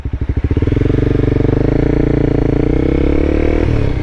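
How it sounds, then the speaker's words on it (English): A car engine revs up strongly from second gear at around 4,000 RPM to rev-match a downshift into first, rising from a pulsing idle into a loud sustained roar that holds steady before easing slightly near the end. "We're going to rev up and then shift down into first."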